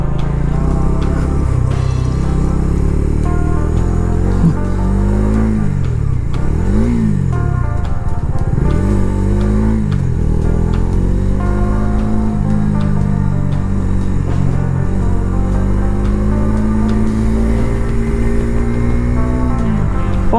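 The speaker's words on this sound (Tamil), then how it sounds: "எத்தனை டிராஃபிக் பாருங்க," Dense highway traffic with cars and lorries passing close by, engines revving and droning continuously and loudly throughout, with rising and falling pitches as vehicles accelerate past.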